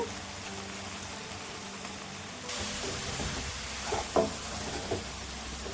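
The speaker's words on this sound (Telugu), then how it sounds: "ఈ మసాలా ఈ బెండకాయలు పట్టేటట్టు ఒకసారి తిప్పుకోండి అండి" Okra being turned with chili powder and coriander powder in a pan for Telangana-style bendakaya pulusu: a steady sizzle and hiss that brightens partway through, with a couple of spoon scrapes near the end.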